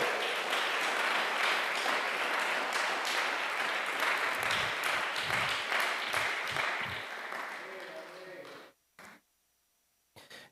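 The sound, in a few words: congregation applauding in church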